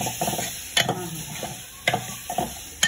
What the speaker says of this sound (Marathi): आता टोमॅटो मॅश होईपर्यंत आपल्याला फ्राय करून घ्यायचं